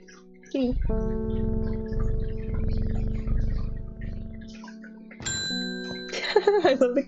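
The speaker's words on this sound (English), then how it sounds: "I love the cat's face when you ring the bell." A bell ringing in the video game Strange Horticulture, a bright chime with sustained ringing tones following a low rumbling stretch of game ambience.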